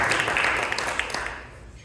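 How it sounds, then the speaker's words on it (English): A crowd at a Black Caucus dinner in Chicago applauds with steady, dense clapping that gradually fades out. "So can we give Mayor Brandon Johnson a round of applause for taking up the mantle of getting it done?"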